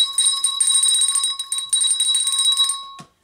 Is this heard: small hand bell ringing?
yes